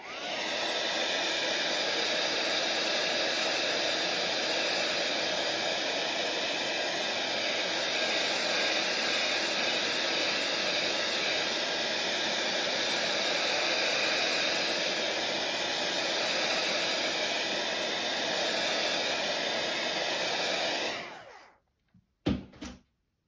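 Hair dryer blowing on a handmade craft phone holder, a loud steady roaring whoosh running continuously for about twenty seconds before switching off, followed by a few small knocks.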